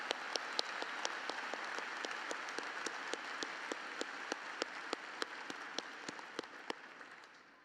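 Audience applause at a fall undergraduate commencement ceremony for introduced senior administrators: a broad wash of many hands clapping, steady and moderately distant, with a few sharper individual claps punctuating it and fading near the end.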